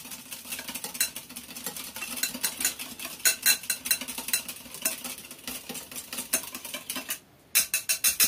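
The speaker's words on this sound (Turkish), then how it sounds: "Şimdi koyduğumuz bu malzemeleri şöyle karıştıralım, dağıtalım." Spoon stirring a small amount of sugar and salt into ingredients in a bowl, giving a steady run of close, bright clinks and scrapes that rattle on with a brief pause near the end.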